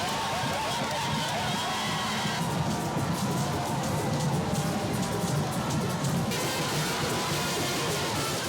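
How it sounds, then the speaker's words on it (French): Large outdoor crowd at a school grounds applauding the head of state's arrival in Togo, a dense continuous patter of clapping mixed with cheering voices and a low rumble underneath. "Des applaudissements ne tarissent pas."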